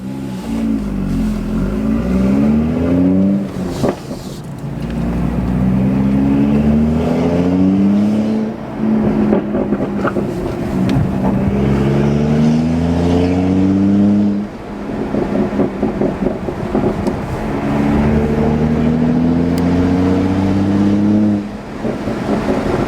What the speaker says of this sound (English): We gotta see how these burbles turn out, and this flash turns out.